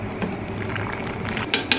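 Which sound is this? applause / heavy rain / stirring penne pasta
stirring penne pasta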